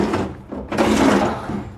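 A single wardrobe drawer in a Pattaya apartment slides open and shut, a short wooden scrape and knock repeated a few times, close and fairly loud.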